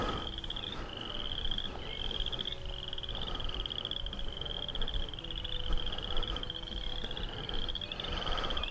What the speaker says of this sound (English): you can really hear those frogs